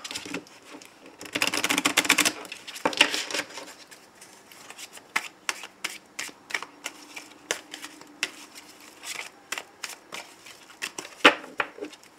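Tarot cards shuffled by hand in bursts of dense riffling and slapping, with a loud flurry early on, then softer rhythmic taps and card snaps recurring close up, no voices.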